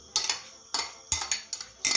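A utensil clinks against a pot as cabbage soup (kapusniak) is stirred in a village kitchen in Dankivka, Ukraine, giving five faint, irregular metallic taps over two seconds.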